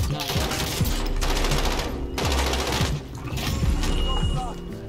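Sustained automatic gunfire in Call of Duty Warzone, dense overlapping bursts from several weapons that rattle almost without pause, loud and close, with game noise filling the gaps.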